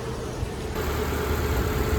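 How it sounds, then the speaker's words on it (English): A Suzuki Jimny engine with an erratic-idle fault idles steadily while still warming up, a close, even mechanical hum with a slightly raised idle and no voices. "So it's idling fine, but obviously the engine is still heating up, so it will be slightly high."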